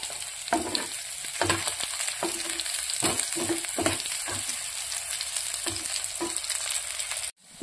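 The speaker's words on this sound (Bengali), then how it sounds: "পেঁয়াজটা একদম ব্রাউন কালার করে ভেজে নেব।" Onion frying in a pan until brown, a steady sizzle broken by repeated scraping stirs of a spatula, ending abruptly.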